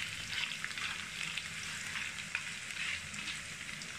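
A handful of cashews sizzle steadily in hot oil in a pan for matar pulao, a continuous bright frying crackle with soft popping flecks, close and alone with no talk.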